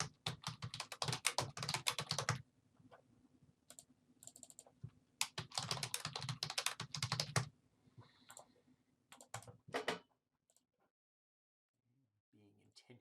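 Someone types on a computer keyboard nearby in quick bursts of crisp clicking, with short pauses between bursts, before the sound fades to near silence at the end.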